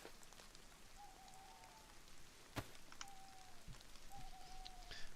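Steady light rainfall patters in the DayZ video game, a soft continuous hiss of drops with a few faint thin bird-like calls and one sharp knock, no voices.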